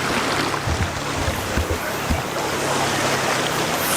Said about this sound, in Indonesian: dengan suara sungai ini membuat suasana makin syahdu, makin tenang, tanpa ada suara-suara yang lain